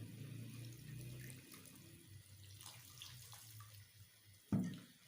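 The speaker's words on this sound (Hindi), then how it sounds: "थोड़ा सा साथ में पानी डाल देते हैं।" A little water is poured into a pot of chicken gizzard curry during cooking, a steady running splash that fades, ending with a sharp metallic clunk.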